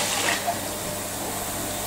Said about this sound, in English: We can see that we are spraying water all over the place.